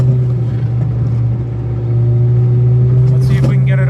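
A 1994 Suzuki Cervo SR drives along with a steady low engine hum and road rumble at constant loudness, a voice speaking over it near the end.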